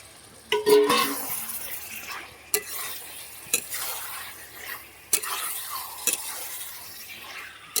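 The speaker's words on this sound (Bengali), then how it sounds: "মাংসটা দিয়ে আমি ভালো করে কষিয়ে নেব।" Over a kilo of beef stirred and fried in oil that has separated from the cooked spices, for a beef, spinach and potato curry. A spatula scrapes the pan in sharp, irregular strokes over a steady, close sizzle.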